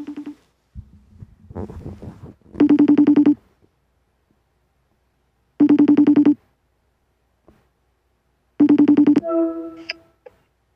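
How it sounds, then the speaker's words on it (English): A FaceTime call rings with three loud, evenly spaced chime bursts, heard close and clear, with brief muffled sounds between them. "You making a phone call?"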